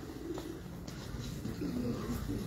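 Pigeons coo softly at a loft, low throaty calls repeating faintly against steady background noise.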